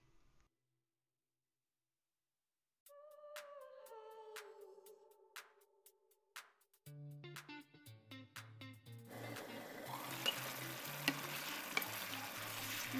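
Kadhai chicken with bell pepper (capsicum) cooking in a pan, stirred with a few clinks of the utensil, then a steady loud sizzle of frying once ingredients hit the oil; no talking.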